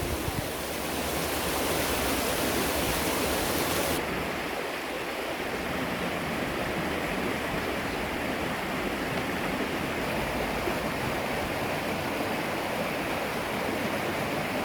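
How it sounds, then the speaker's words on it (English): River water in Mauritius rushes steadily, forming a dense, unbroken broadband wash that stays loud and close throughout, with no voices over it. "we'll be back to the sounds of the river"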